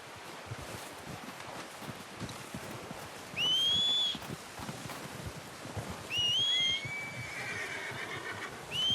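A horse whinnies in the video game Red Dead Redemption 2, two loud, high neighs a few seconds apart over quiet rustling and wind.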